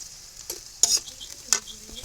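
Prawns with bottle gourd leaves, garlic, onion and green chilli frying in a pan, a quiet sizzle broken by a few sharp spatula scrapes as the mix is stirred, close and without talk.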